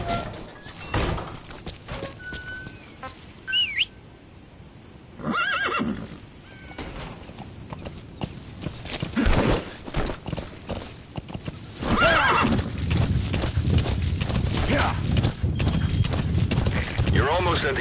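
Horse neighs and clip-clopping hooves in the video game Metal Gear Solid V: The Phantom Pain, whinnies near the start followed by steady galloping hoofbeats that grow louder and denser, with game voice and effects layered over them.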